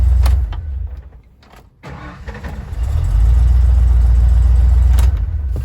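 A Ford 5.8L 351 Windsor V8, just fired up after a timing adjustment, settles into a loud, steady idle with a deep low rumble, following a brief dip in sound; no talking.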